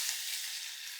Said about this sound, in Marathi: तेल तापलं, यामध्ये घालूया मोहरी, हिंग, तयार केलेलं वाटण